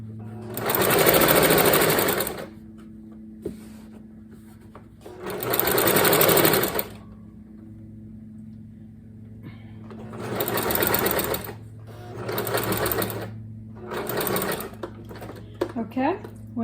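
A sewing machine stitching a baby quilt runs in short loud bursts of rapid whirring, five separate runs with pauses between them. A low steady hum continues underneath the whole time.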